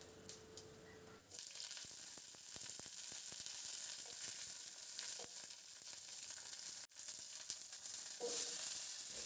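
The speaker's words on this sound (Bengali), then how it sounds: "এবার তেলে আমি 5 ফোড়ন দেব আর দেব কাঁচা লঙ্কা" Bengali five-spice (panch phoron) and green chilies hit hot oil, bursting into a sudden sharp sizzle after a quiet start, then crackling steadily and close with a brief stirring break.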